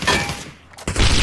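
Gunfire exchanged during a competitive Ring of Elysium battle royale match, loud bursts of shots at the start and again at the end with a quieter gap between them.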